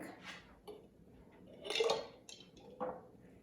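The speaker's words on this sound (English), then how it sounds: "I'm going to slowly drop these eggs in because I don't want them to break." Eggs are lowered one at a time into a container of vinegar tinted with blue food coloring, producing soft clinks and light knocks against the container, faint and close, with quiet handling between them and no talk.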